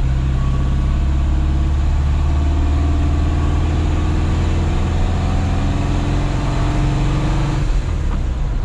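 A 1977 Volkswagen Brasília idles with a Cadron setup and modified aftermarket exhaust, a steady, loud, close low rumble with an even throb that holds for several seconds, no talking.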